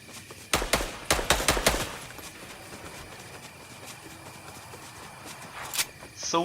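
Rapid bursts of gunfire sound in Fortnite Chapter 4, a quick cluster of loud shots in the first couple of seconds, then quieter game ambience and a lone later shot.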